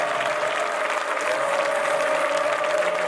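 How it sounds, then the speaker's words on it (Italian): A crowd applauds steadily and loudly throughout at a football club's official team presentation, a dense continuous wash of clapping with a faint tonal hum underneath. "Applauso!"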